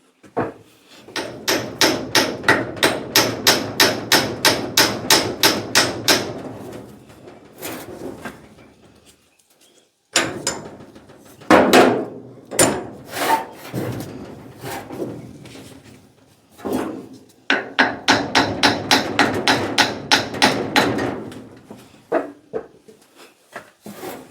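Copper hammer striking a Prentiss No. 20 swivel jaw vise in rapid, evenly spaced blows, close and loud, coming in several bursts separated by short pauses with some irregular heavier hits in between.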